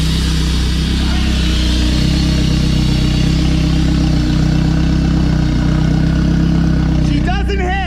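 Honda Civic engine droning steadily on a dyno, a loud, constant low mechanical roar that holds for several seconds before shifting near the end, with a voice speaking over it.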